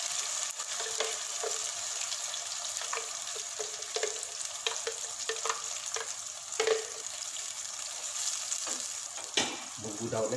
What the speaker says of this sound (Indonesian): Setelah bumbunya kita blender tadi, kita tumis ya dengan sedikit minyak.